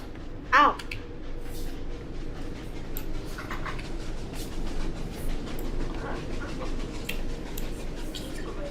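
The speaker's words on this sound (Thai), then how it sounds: "ตอนนี้ผมกำลังขับรถไฟเลย" A train driven in the Roblox video game gives a steady, rumbling rail noise throughout, with one brief loud burst near the start and a busy background.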